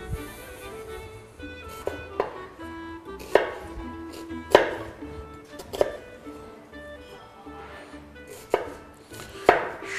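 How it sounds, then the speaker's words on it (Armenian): A knife chops an onion coarsely on a board while tolma is being prepared in an Armenian kitchen. The cuts land as sharp, irregular knocks close by, with no talk. "սոխը նույնպես շատ խոշոր ենք կտրատելու"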